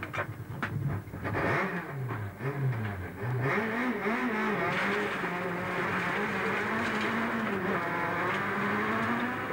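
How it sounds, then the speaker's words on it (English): A 1998 British Rally Championship car's engine runs again after a broken fuel pipe, revving loud and close with rising and falling pitch sweeps, then holding a steady drone. "The McGann's engine was running again"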